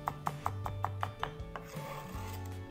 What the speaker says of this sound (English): I run my knife through it again even after I cut it up pretty small.